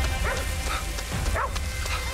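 A ghost dog in the video game Ghostwire Tokyo gives a few yipping, whimpering barks, close and fairly loud over a steady game background hum.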